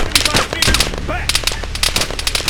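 Machine gun fire in the military shooter ARMA 3, rapid loud bursts of automatic shots near and far, with a shouted voice mixed into the chaotic firefight.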